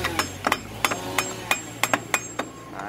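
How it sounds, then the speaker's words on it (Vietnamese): A hammer strikes metal parts while a large engine is taken apart, about a dozen sharp ringing blows at an uneven pace, close and loud over a low steady hum, with no talking. "anh cứ lấy búa anh đóng vào đây cho em"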